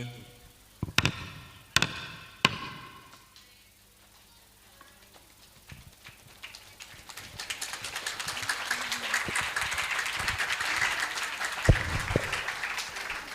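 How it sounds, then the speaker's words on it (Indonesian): Audience clapping at a combined madrasah graduation ceremony, following a few sharp knocks at the start, swells from about seven seconds into a dense, sustained wash of applause filling the hall, with no talking. "Terima kasih tepuk tangannya."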